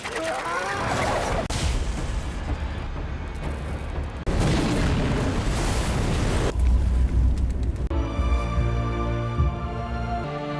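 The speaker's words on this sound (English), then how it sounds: "Arif had laid a trap for Fadlan, causing him to die in an explosion." A trap blast killing a man in a dramatic action scene, heavy booming rumble that swells twice in sustained roaring bursts, followed by a dense mechanical, ratcheting drone with layered low tones.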